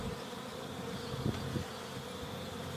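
Honey bees from a newly installed package buzz continuously around their hive during an inspection, a soft, even hum with a few louder passes as individual bees fly near, and no talking.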